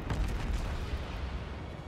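Naval gunfire in the World of Warships video game, heard as a faint, continuous low rumble of distant battleship guns and booms, with no clear separate shots.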